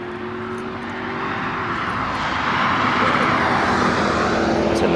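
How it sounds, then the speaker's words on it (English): A car passes on a suburban-style street on a Saturday, its engine and tire roar building steadily to a loud, sustained rush near the microphone with no talking over it. "It's a nice-ass car that just drove by."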